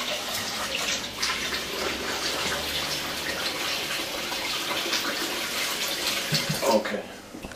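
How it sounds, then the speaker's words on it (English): Rice being washed in a bowl of water, with steady sloshing and splashing from start to finish and a brief louder swirl near the end; no one speaks. "And then we clean the rice."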